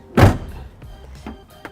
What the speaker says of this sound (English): close the trunk of the vehicle